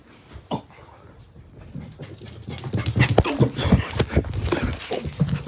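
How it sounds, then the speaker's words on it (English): A playing dog whimpers and whines in short, high yelps that grow busier and louder over a few seconds, mixed with snuffling and scuffling nearby. "it's just the dog's playing"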